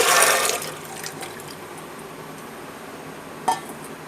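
Water gushes into a cooking pot (dekchi) in a home kitchen: a short, full splash at the start, then near silence broken by a single faint drip or clink.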